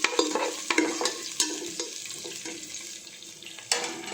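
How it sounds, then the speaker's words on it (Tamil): Whole spices, crushed garlic and fennel tempering in ghee and sunflower oil for plain kuska biryani: a steady crackling sizzle broken by irregular spoon clatters and scrapes against the pan, with no voices. "இப்போ இதில் நான் தாளிச்சிக்கிறேன். இது நல்லா நமக்கு பொரிஞ்சு வரணும்."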